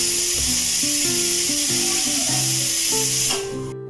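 A pressure cooker holding spicy potato and eggplant curry on low flame gives off a loud, steady hiss that cuts off abruptly near the end, with a simple stepped melody playing underneath.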